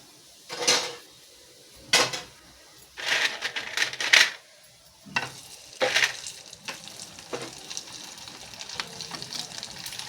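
Cucumber vadiyalu frying in oil, heard as bursts of bubbling sizzle that swell and fade in several separate waves with short quieter gaps between them, fairly close and with no talking.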